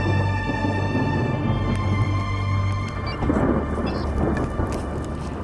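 Thunderstorm on the plains during tornado chasing, with heavy rain pattering steadily on a car and a deep rolling rumble of thunder underneath, loud and continuous throughout without voices.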